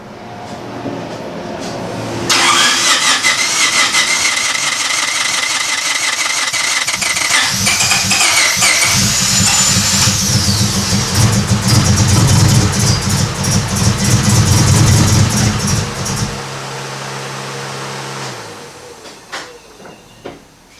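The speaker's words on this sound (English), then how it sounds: "So yeah, we've definitely got some misfires there." Engine of a Honda Civic EK hatchback cranks and starts, then runs roughly with an uneven, stumbling idle from misfires for about fourteen seconds before shutting off, loud and close with no talking.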